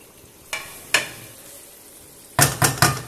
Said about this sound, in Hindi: थोड़ी देर के लिए हमने इसको 1 से 2 मिनट के लिए पकाना है